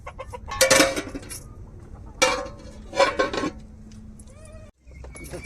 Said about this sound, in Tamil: இப்போ நம்ம ஒரு தட்டை போட்டு நல்லா மூடி வச்சுருவோங்க